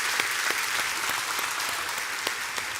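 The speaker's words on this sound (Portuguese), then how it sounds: "Dá uma salva de palmas por isso já." A church congregation claps steadily and loudly throughout, a dense, even wash of applause with no breaks and no voices standing out.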